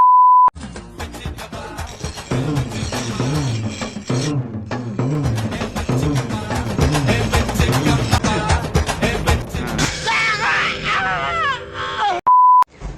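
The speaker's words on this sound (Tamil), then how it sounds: "பீப்பு பீப்பு பீப்பு பீப்பாவே இருக்கு" Censor beeps: a steady tone at the start and again near the end bracketing a stretch of loud, fast chatter, likely speech in a comedic reel, with the tones clean and prominent.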